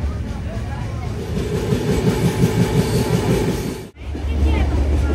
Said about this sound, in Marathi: आता ट्रेन मध्ये आम्ही जातो